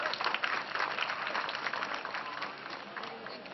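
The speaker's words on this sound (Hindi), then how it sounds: "प्राण डालिए तालियों के साथ" A stage audience claps to welcome Pran: continuous, fairly distant applause that holds steady and slowly tapers, with no voices over it.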